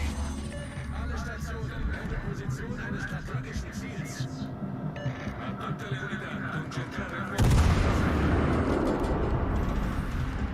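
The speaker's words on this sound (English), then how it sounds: "Let's shoot some AP at the Roma that's 16 kilometers away" Naval guns fire armor-piercing shells at a battleship in World of Warships Legends, booming salvos rolling under a busy mix of game effects and music, with a heavier, louder burst near the end.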